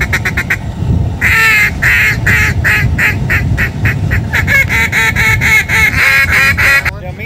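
Geese and ducks honk and quack loudly and almost without pause, a dense, rhythmic chorus close by during a duck and goose hunt. The calls go on steadily for several seconds.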